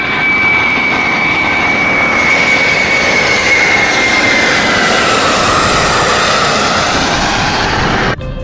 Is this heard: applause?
no